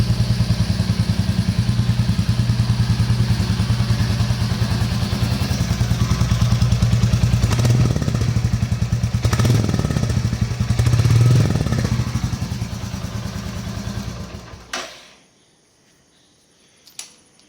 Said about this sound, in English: exhaust note of the new 350